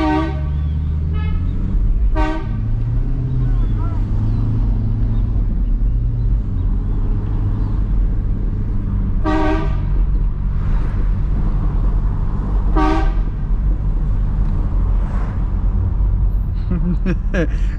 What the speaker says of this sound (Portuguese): É só você ter uma buzina que o trânsito flui rapidinho